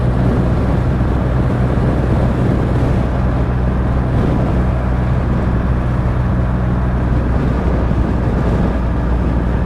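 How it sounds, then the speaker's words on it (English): A Triumph Rocket 3 GT motorcycle ridden two-up gives a steady, loud engine drone buried in heavy wind roar that runs continuously without a break. "The engine in this bike is a lot bigger than the engine in the BMW"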